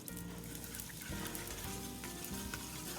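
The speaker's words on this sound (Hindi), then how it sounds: "उसमें 2 खाने के चम्मच ऑयल ऐड करेंगे और 1 खाने का चम्मच अदरक लहसुन का पेस्ट हम इसके अंदर ऐड कर देंगे" Ginger garlic paste sizzling in hot oil in a wok (kadhai), a dense steady crackling fry with light stirring scrapes, close and moderately quiet.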